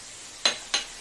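Ginger paste and spices, including cumin, red chili, turmeric and salt, sizzle in a hot pan for a fish dish, heard as two quick, close hissing bursts over faint background hum.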